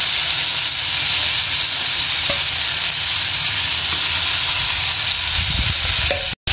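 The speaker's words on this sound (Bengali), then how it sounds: "এটা হচ্ছে বাটার চিকেন ফ্রাই। চিকেনটাও ম্যারিনেট করে রেখে দিয়েছিল, বাটারে এটা তৈরি হচ্ছে।" Marinated butter chicken frying in butter on a home stove, giving a steady loud sizzle with a faint hiss of steam and occasional stirring scrapes throughout.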